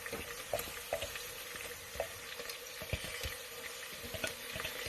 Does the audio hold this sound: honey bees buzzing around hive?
no